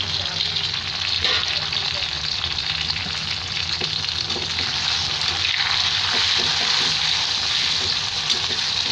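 Tomato, ginger, garlic and chili frying in a pan for a black chickpea curry, with a continuous loud sizzle and crackle and occasional stirring scrapes throughout.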